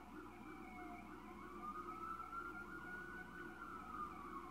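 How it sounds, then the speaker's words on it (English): Emergency vehicle siren wailing far off in the background, faint and steady with slowly rising and falling pitch over low traffic rumble, no talking. "If you heard that siren in the background"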